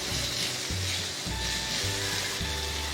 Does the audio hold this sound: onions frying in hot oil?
yes